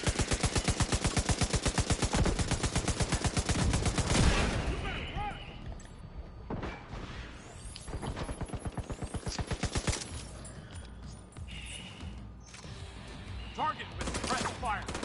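Rapid automatic gunfire in the video game Division 2, a long sustained burst up front followed by scattered shorter bursts and single shots, loud and close with faint voices underneath.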